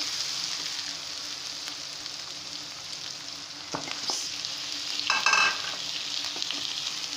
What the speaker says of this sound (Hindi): चिकन ऐड करके अब हम चिकन को थोड़ी देर कलर चेंज होने तक इसके अंदर भूनते हैं